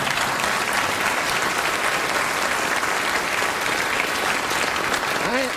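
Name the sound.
studio audience applause after a political joke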